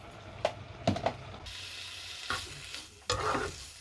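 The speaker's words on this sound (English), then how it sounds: "Your bacon cooking." Bacon fries in a pan for spaghetti carbonara, a low sizzle broken by several sharp scraping stirs as the pieces are moved around, close and fairly quiet, with no voices.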